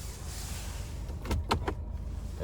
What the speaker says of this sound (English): there you have your one-touch tilt and sliding power sunroof